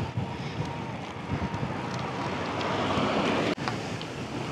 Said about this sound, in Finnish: No kyllä nyt tuulee.